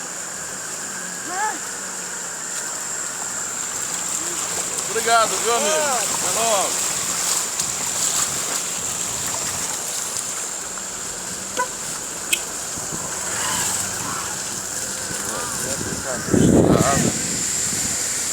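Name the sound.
flowing water around a Fiat Strada pickup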